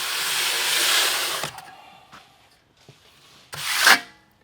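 A trowel scraping the mortar edges of a dry-pack shower pan, a gritty rasping stroke, then quiet scuffs and a second rough scrape close by.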